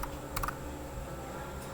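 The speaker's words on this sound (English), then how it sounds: "keep your focus to what I am typing here" Typing on a computer keyboard while writing C code for a dynamic memory allocation lesson, a short quick burst of several close key clicks over a steady low hum, then quiet.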